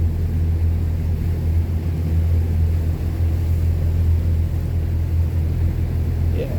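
A Windy 32 Grand Tornado motor boat's engine runs at a slow cruise around 1500 rpm, a steady low droning rumble with constant water wash, unbroken and close throughout.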